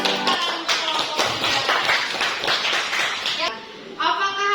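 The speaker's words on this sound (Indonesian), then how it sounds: "Beri tepuk tangan untuk kelompok" A classroom of students gives a student group a short, lively round of clapping, dense patters close by, while a teacher's voice speaks over it near the start and again at the end.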